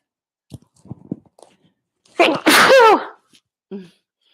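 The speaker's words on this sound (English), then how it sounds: "I'm going to sneeze" A single loud, close sneeze bursts out, preceded by a few soft breathy intakes and followed by a brief sniff.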